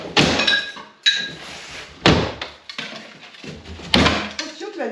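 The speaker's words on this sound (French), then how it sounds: "Je vais prendre le marteau." A hammer strikes a wooden plank with four sharp, resonant knocks about a second apart, each followed by a short ringing decay, with some faint voices around them.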